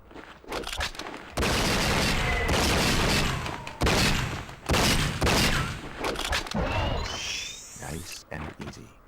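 Repeated bursts of gunfire from a shootout in the crime action game True Crime: Streets of LA, loud clusters of shots separated by brief pauses, with a voice talking over parts of it.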